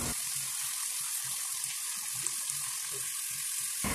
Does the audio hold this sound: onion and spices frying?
yes